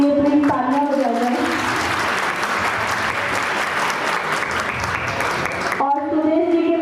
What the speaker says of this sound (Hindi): पूरी तालियां हो जाए